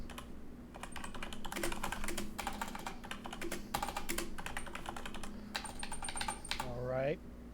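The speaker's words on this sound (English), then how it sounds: "He's still typing." Steady, rapid clatter of typing on a computer keyboard runs close and continuous for several seconds, with faint room noise beneath and a brief voice-like sound near the end.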